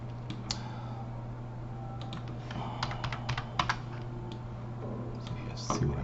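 Computer keyboard keys tapped in short bursts with a few sharp mouse clicks, close and fairly quiet over a steady electrical hum, no talking.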